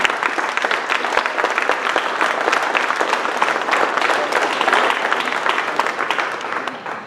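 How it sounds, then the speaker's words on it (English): Audience applause for a city council at a mayor's re-election victory speech, a loud, steady round of clapping from a crowd that tapers slightly at the end. "A round of applause perhaps for the council."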